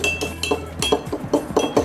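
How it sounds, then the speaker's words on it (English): A peanut butter banana old fashioned cocktail being stirred in a glass with ice, giving a quick run of close, light clinks and rattles with no voices. "Now, we're going to give this a stir."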